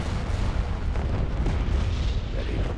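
Starships in a Star Wars space battle game fire shot after shot, a dense, rumbling barrage of booms and bursts blending into a loud, steady low roar with no clear gaps.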